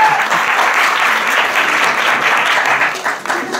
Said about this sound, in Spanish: Fuerte el aplauso para nuestra siguiente candidata, Diana Ramírez Jove.